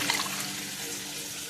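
Water pours steadily into a pressure cooker of ridge gourd sambar, a soft continuous splashing trickle that stays fairly quiet for the whole moment with no voices.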